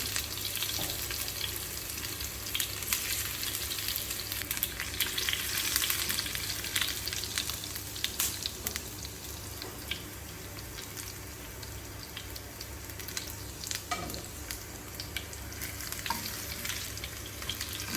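Sliced shallots crackle and sizzle in hot oil, a steady frying hiss with occasional sharper pops and stirring scrapes throughout.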